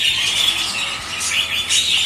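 A young cockatiel chick calls with continuous high, shrill chirping and squealing, steady and close with small swells in loudness.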